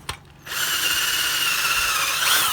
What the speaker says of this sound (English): So we're drilling a pilot hole 15 millimeters from the end.